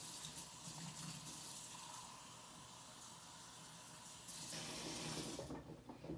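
Hot water running and pouring for flatbread dough, a steady close hiss of flowing liquid that grows brighter near the end before tapering off.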